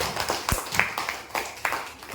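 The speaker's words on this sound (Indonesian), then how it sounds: "Oke, kasih tepuk tangan buat Fauzan." A small group claps for a student named Fauzan during a university class session, with scattered, uneven hand claps at moderate distance, fairly faint and brief.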